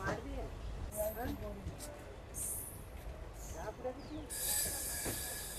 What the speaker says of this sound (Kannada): ಈಗ ಟ್ರೈನ್ ಬಂದತ್ರಿ ಮುರುಡೇಶ್ವರಕ್ಕೆ.